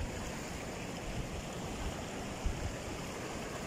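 A small stream flows steadily in a dense, even rush of water, close and moderately quiet, with one brief splash or knock partway through and no voices.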